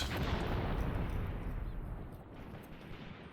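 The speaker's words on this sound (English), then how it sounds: "We're firing, good." Gunfire in the tactical war game Graviteam Tactics: a dense, rumbling volley of shots and booms, loud at first and slowly fading over a few seconds.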